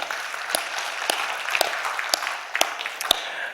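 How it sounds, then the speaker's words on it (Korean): A church congregation gives a steady round of applause in glory to God during a Korean worship service, dense clapping with a few sharper individual claps standing out, sustained throughout. "우리 하나님께 영광의 박수 올려드리겠습니다."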